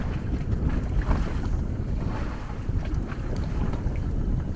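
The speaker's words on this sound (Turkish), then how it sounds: "Akdeniz açıklarında muhteşem bir havada güzel bir tekne keyfi yapıyoruz." A boat cruises off the Mediterranean coast in fine weather, with a steady rumbling hull and engine wash mixed with wind buffeting the microphone and water slapping, continuous and fairly close, with no talk.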